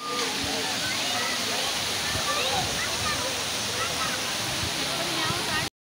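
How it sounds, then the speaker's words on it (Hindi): A small waterfall in the Neelum Valley of Azad Kashmir pours in a steady, dense rush of falling water, close and loud and unbroken throughout, with no voices over it. "यहाँ हमें मिल गई है ये एक छोटी सी वाटरफॉल"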